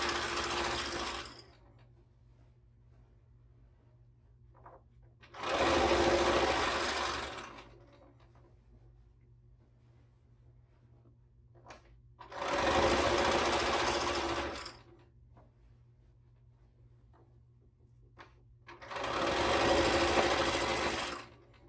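A standard domestic sewing machine stitches a large quilt in three rapid whirring runs of about two seconds each, separated by quiet pauses with faint handling, close and clear with no talk.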